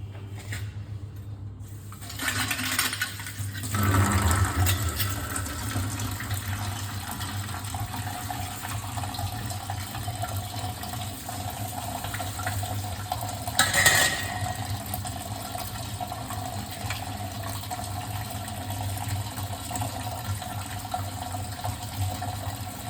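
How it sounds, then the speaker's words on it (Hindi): Running water splashes steadily over brass puja utensils being washed, a continuous rushing flow with a few louder clatters and gushes near the start and middle, no talking. "सुबह सुबह उठ के सारे भगवान जी के बर्तन समेटना, उसके बाद इनको वॉश करना"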